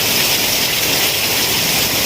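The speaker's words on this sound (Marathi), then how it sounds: "शृंगारतळीमध्ये मुसळधार पावसाने सुरुवात केली आहे." Heavy monsoon downpour in a Konkan town, a dense, loud, unbroken roar of rain with no gaps or voices.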